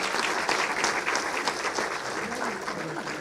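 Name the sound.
audience applause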